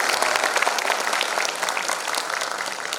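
Attendees at a front-end web development tech event clap on cue, a broad, even burst of applause that carries steadily and eases slightly near the end, without speech over it.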